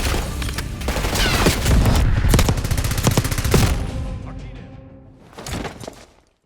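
Dense automatic and rifle gunfire in Call of Duty: Black Ops 6, a loud sustained fusillade of rapid cracks for about four seconds, easing off, then a short renewed burst near the end.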